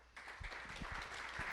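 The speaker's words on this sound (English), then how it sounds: "let's give a round of applause for Bill." A seminar audience on the history of Commodore computers applauds a speaker with a steady, faint wash of clapping that swells slightly toward the end, with a few low murmurs underneath.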